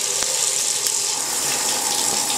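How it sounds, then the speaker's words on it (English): A Voolan 4-inch high-pressure shower head sprays water in a steady, dense hiss, close and continuous, with no talking. "Here is the shower head installed. I want you to see what the different sprays look like."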